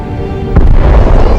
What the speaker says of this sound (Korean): 실제로 7명이 타고 있었는데 우주에 가기도 전에 폭발해버린 악몽 같은 사건이었죠